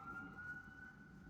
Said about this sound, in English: We're in America when you hear sirens 24/7.